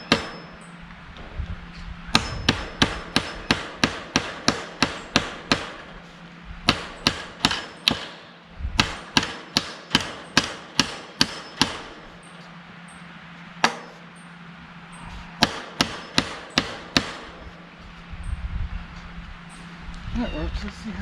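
Sharp hammer blows ring out in quick bursts of several strikes while an electric fence is installed around a backyard chicken coop outdoors, the clusters separated by short pauses and some single hits, fairly close and loud.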